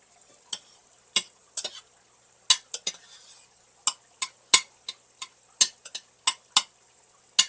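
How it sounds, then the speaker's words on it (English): A big spoon stirs cayenne pepper into ground beef in a pot, giving a run of sharp, scattered scrapes and clinks at an uneven rhythm, close and fairly loud, with no talking. "just stir that cayenne pepper into that ground beef"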